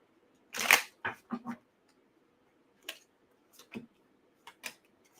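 Tarot cards being shuffled close by: a cluster of crisp riffling snaps at first, then a few isolated sharp card flicks spaced across a quiet background.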